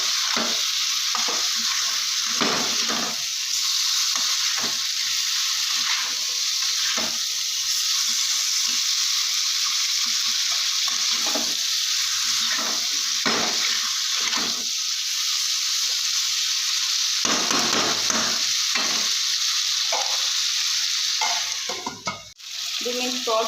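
Cauliflower and potato masala sautés in a pan with a splash of water, giving a loud, constant sizzle and hiss. Repeated scraping stirs of a spoon run through it until it fades out near the end, with no voices.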